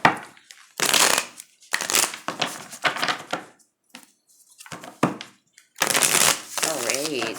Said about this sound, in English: One more shuffle, please.